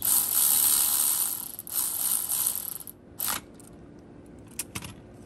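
On a Honda TRX 300EX quad, a hand ratchet runs bolts down in a burst of rapid, close clicking, then pauses and gives a few shorter clicks and metallic taps with no speech.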